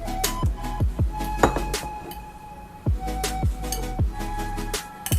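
Chopped apple pieces drop into a bowl for a breakfast fruit salad, making a close series of irregular clinks and light knocks against the bowl, with no talking.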